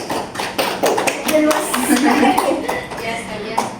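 A classroom breaks into applause for a winning student group, scattered claps rising to a brisk, fairly close patter that thins out toward the end, with voices talking over it.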